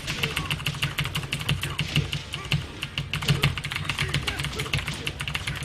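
Rapid clacking of a computer keyboard during a fighting game, with dense, irregular keystrokes close to the microphone and a steady low background drone underneath.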